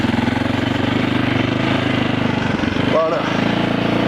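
A dirt bike engine used for desert racing training runs in a steady, rapid, loud throb close by, with a brief sharp rev near the end, while a person talks over it.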